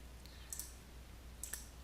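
Mouse clicks in Revit software, with two or three faint, sharp clicks spread across a quiet room background and no talking.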